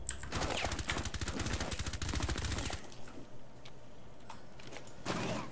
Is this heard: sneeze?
no